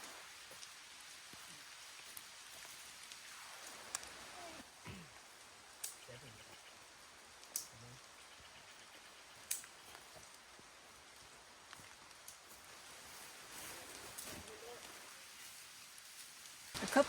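Rain patters on the trees over a forest campsite in the Big Sur Silver Peak Wilderness, a soft continuous hush with scattered drips and occasional louder drops, with a voice speaking now and then.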